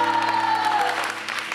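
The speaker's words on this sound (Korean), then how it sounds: "큰 박수 부탁드립니다." Brief burst of audience applause and cheering at a televised variety show gathering, clapping and crowd noise under a sustained musical tone.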